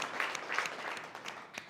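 A brief patter of applause from an audience at a winter retreat gathering, fairly soft and distant, as a short ragged burst of clapping.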